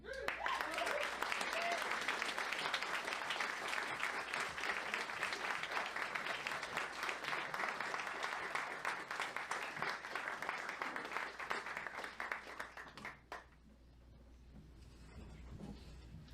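Concert audience at a traditional Irish music performance applauding steadily and loudly for about thirteen seconds, dense continuous clapping that tapers off sharply into quiet room tone.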